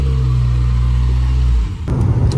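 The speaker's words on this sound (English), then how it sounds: "Moving this little Honda EP3 for Izzy." A Honda EP3 being driven, with a loud, close engine hum that holds steady before dropping off abruptly into a brief rumble near the end.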